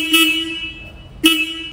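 Two short honks from the horn of a 2025 Royal Enfield Bullet 350 motorcycle, close and loud, with a brief pause between them.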